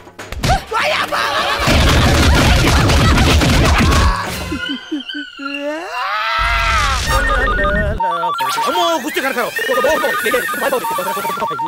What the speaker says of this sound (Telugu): ఏమయ్యా కిస్మత్ కుమార్, ఎంతసేపు అయ్యా ఫోన్ ఎత్తడానికి?